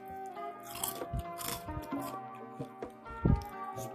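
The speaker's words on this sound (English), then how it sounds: "Listen to this crunch." Close, crisp crunching bites of pancake-battered fried chicken being chewed, irregular loud crunches with wet chewing in between, no talking.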